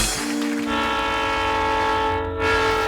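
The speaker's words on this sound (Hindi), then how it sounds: "अरे बेटी, वो ट्रेन की आवाज थी।" A train horn blares in a sustained, loud, steady chord with rumbling rail noise underneath, used as a sound effect in a Hindi TV comedy sketch.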